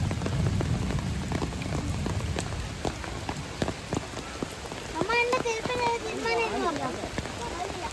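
Rain falling in a forest wildlife sanctuary, a soft, steady patter with scattered sharper drip taps, while a person speaks quietly in the second half.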